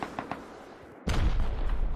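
Gunfire in the survival video game Rust: a couple of faint distant shots, then a loud close burst of firing that continues to the end.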